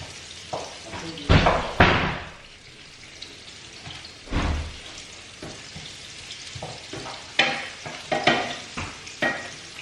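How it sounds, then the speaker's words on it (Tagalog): Chopped onion frying in a pan, with a steady sizzle broken by several louder scrapes and stirring knocks, some close and sharp, spread across the whole stretch and heard without speech. "So, I'm just waiting for the onion to be cooked."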